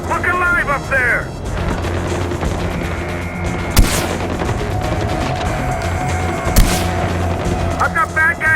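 In the video game Far Cry 4, gunfire and heavy booms play over a constant battle din, with two sharp loud blasts standing out, while voices shout near the start and end.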